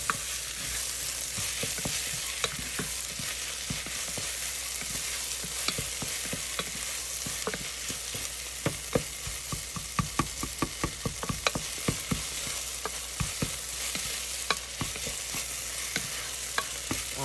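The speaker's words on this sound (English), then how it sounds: "after I have completely stirred the garlic and the onions in, got it all sauteed up" Garlic and onions sauté in a pan under a steady low sizzle, with a long run of sharp utensil taps and scrapes against the pan while stirring, close up and without speech.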